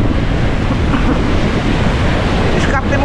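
Rough sea waves and strong wind during a typhoon on the coast of Bucana, Batangas: a constant, loud roar of surf and gusting wind buffeting the microphone, with no talk.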